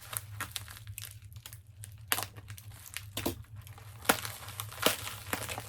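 Tape is peeled and wrapping torn off a graded comic book slab, with close crinkling, crackling plastic and sharp tearing bursts in an irregular rhythm.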